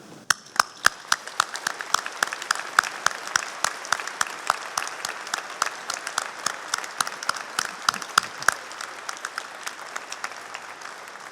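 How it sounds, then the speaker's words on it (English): An audience at a University of Lincoln graduation ceremony applauds steadily for about eleven seconds, a dense wash of many hands clapping with sharper individual claps popping out nearby. "Give a round of applause to thank them for their help."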